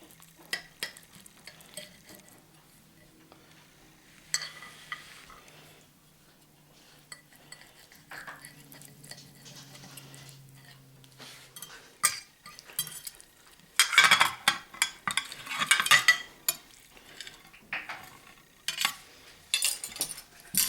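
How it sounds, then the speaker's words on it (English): A utensil cuts and lifts a slice of cheesy frittata in a pan, making scattered scrapes and clinks that grow busier and louder toward the end against a quiet background. "Let me cut us a slice."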